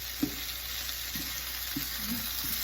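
Cabbage and leeks frying in a frying pan give a steady, close sizzle, with a few soft knocks from a wooden spoon stirring them.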